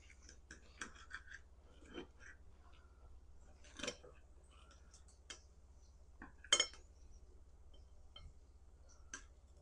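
Cutlery scraping and clinking on a plate while cutting into Chicago hot chicken and waffles, with sparse light taps and a few sharper knife scrapes over a quiet low hum.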